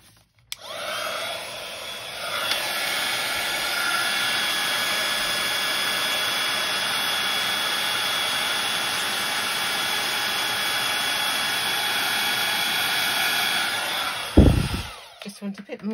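A heat tool blows hot air steadily over black cardstock, a loud continuous whooshing drone that runs for about fourteen seconds before clicking off, with a brief thump at the end.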